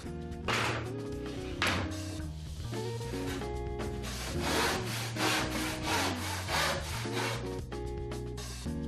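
Plasterboard panel being sawn by hand on a Taliaplast board table, a steady rasping back-and-forth stroke repeated continuously, close-up, with no voices.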